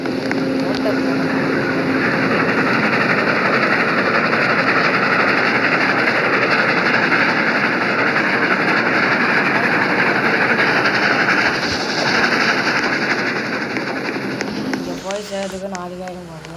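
A loud, continuous rumble and roar of a Roblox train runs throughout at close range, easing off near the end as a voice speaks over it.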